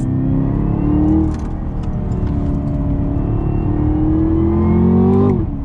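Chevrolet Camaro ZL1 with a 10-speed automatic pulling hard under throttle, a loud, steady engine roar climbing in pitch, easing briefly, then rising again to a peak before a sudden drop near the end.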